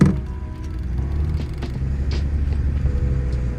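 An old barn-find Ford Deluxe sedan engine runs as the car pulls away, a low steady rumble close by with faint knocks and clunks over it.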